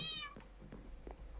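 Brief cat meow from the Minecraft video game, a short rising-falling call at the very start, fairly quiet, followed by faint low background sounds.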